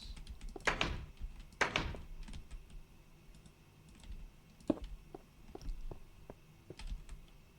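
Doors are placed beside glass while building in a Minecraft beta world, with two dull wooden thunks early on, then scattered light clicks of keyboard and mouse.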